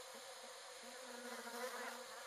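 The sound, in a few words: bees buzzing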